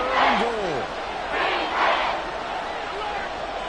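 A football stadium crowd cheers and roars in swelling waves during a fourth-quarter third-and-goal play, heard under a sports commentator's continuous play-by-play talk.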